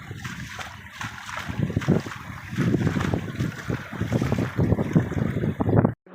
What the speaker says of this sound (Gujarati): પવન જરા ગયો નથી